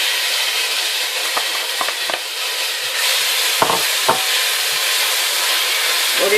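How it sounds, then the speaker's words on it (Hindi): Onion and garlic sizzle in about two tablespoons of oil in a pan, a steady close hiss broken by a few soft stirring knocks and scrapes, with no voices. "यहाँ पैन में मैंने बहुत ही थोड़ा सा तकरीबन 2 टेबल स्पून ऑयल लिया है, जिसमें मैं अपने प्याज और लहसुन को फ्राई करूंगी।"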